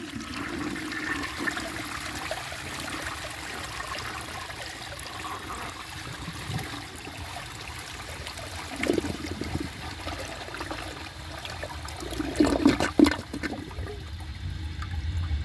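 A 1968 Montgomery Ward Waco toilet flushes with its tank nearly full, giving a steady rushing swirl of water that carries on at a moderate level and ends in gurgling trickles and a sharper draining slurp.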